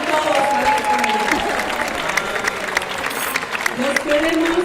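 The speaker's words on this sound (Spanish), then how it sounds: "Vamos a dar un aplauso." A crowd claps at the opening plenary session of an Ibero-American theatre congress, with the clapping running beneath voices and some tonal sound throughout.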